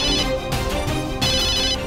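Phone ringtone of an incoming call, a loud electronic melody that plays alone in short repeating phrases.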